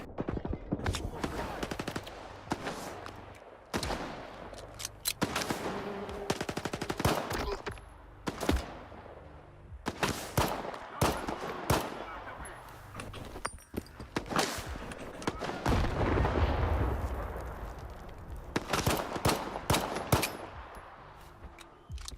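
Pistol gunfire in a video game: repeated sharp shots in quick bursts and rapid strings across the stretch, loud and close, separated by short gaps.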